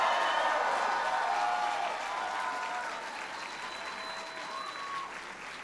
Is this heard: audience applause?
yes